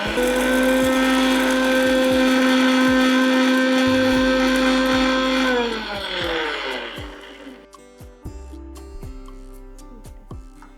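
A mixer grinder whirs loudly, grinding spices for lime pickle, then slows and winds down, leaving scattered clicks and taps.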